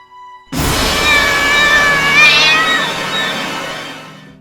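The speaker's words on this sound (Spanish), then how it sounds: "Miró al gato que ronroneaba jugando entre el pelo de su madre." A cat vocalizing in a horror story sound effect, a loud sustained meow-like cry starting abruptly after a brief silence and trailing off slowly, with no talk over it.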